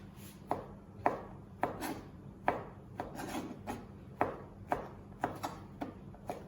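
Bacon rashers being cut into pieces, with a knife striking a board in about a dozen crisp, irregularly spaced chops, quiet and close, with no talking.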